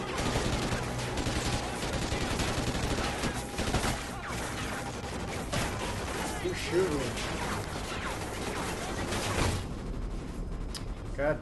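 Dense, continuous gunfire and scattered crashes from the shooter video game Call of Duty: Ghosts, with rapid bursts layered into a loud, busy battle mix that stays thick throughout.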